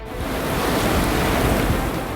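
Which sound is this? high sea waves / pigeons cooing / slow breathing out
high sea waves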